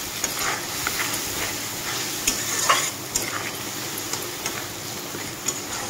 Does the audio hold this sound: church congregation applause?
no